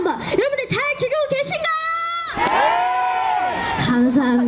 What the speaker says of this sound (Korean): 함성 소리가 조금 작은 것 같은데 다시 한번 여러분들 잘 즐기고